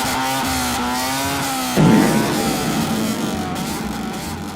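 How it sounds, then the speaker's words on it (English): A Honda Civic is driven hard at 2 AM in Milton Keynes, its engine revving high with a rising whine, then a sharp louder burst as it accelerates away and slowly fades. "decides to treat his Honda Civic like it's an F1"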